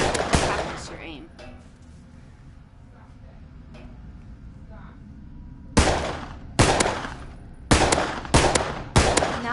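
Pistol shots in the Parasite video game, first one sharp crack, then after a quiet stretch five loud close shots fired in an irregular, quick sequence.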